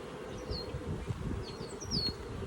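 Honeybees buzz in a low, steady drone around a hive being converted from winter to spring, with a few faint bird chirps above.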